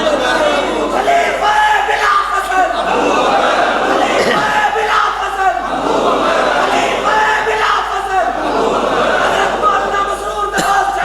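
A large crowd at a religious sermon gathering chants a slogan in unison, loud repeated waves of voices rising and falling in a steady rhythm throughout.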